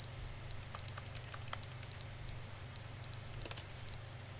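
Piercing electronic beeps from a fire alarm in The Stanley Parable Ultra Deluxe sound in quick pairs, about five bursts in a few seconds, over a low background hum with a few soft clicks.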